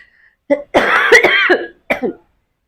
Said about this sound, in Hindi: खांसते खांसते परेशान हो चुकी हूँ